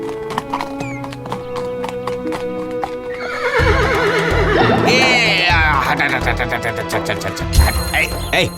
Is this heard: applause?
no